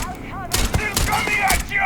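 Gunfire bursts from the video game Starfield: Shattered Space during a fight in a swarm, loud rapid shots over game effects, close, with a voice talking briefly over it.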